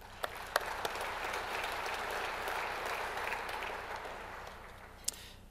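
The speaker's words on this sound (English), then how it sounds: "So a big round of applause to our volunteers." An audience at a Calgary business event with the mayor applauds volunteers: sustained, even clapping from a large crowd in a hall, somewhat distant, with a few sharper claps standing out near the start and end.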